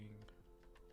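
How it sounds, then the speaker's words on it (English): A computer keyboard clicks in a few quick, faint taps at close range, softly under a person talking. "Sorry if you can hear my keyboard."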